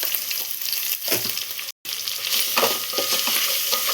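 Onions, green chillies and ginger paste frying in a pan for a chicken curry, a loud, dense sizzle with stirring scrapes that stops briefly mid-clip and then resumes.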